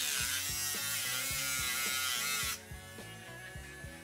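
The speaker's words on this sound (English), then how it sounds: "I mark where I need to cut. As always, the Dremel is my tool of choice." A Dremel rotary tool cuts through a model railway kit piece with a close, loud high-pitched whine and rhythmic buzzing pulses, then drops abruptly to a softer hum partway through, with no talk.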